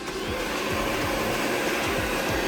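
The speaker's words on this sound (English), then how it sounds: "blow dry it all forward this way, and come from underneath" A hair dryer blowing steadily up close while blow-drying a beard forward from underneath during a beard trim, a continuous whooshing drone with no talking.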